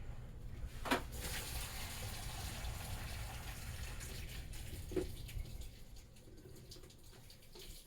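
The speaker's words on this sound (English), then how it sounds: "I'm gonna walk over to my sink and I'm gonna drain my water." Water from a Tupperware container pours into a kitchen sink, a steady gushing drain with a couple of brief splashes, moderately close and alone without talk.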